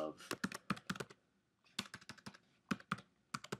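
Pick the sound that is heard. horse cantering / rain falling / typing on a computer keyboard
typing on a computer keyboard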